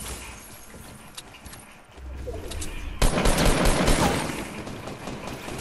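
Gunfire in a Fortnite match, a steady rattle of automatic shots and crackling bursts that grows louder and denser halfway through, with no voices over it.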